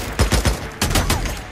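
Sniper and rifle shots crack out in the video game Days Gone, a quick cluster of four or five sharp reports in well under two seconds, loud and close, with no voices.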